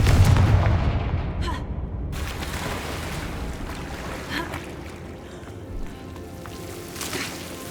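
The Confringo blasting spell from Hogwarts Legacy sets off a deep, booming explosion at the start that rolls into a rumbling decay, followed by fainter scattered in-game thuds and ambience.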